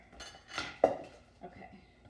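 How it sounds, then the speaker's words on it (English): A utensil scrapes the last of a veggie crescent pizza mixture out of a bowl: a few soft, brief scrapes and one light clink against the dish, close and quiet. "Just want to get all that goodness out of the bowl here."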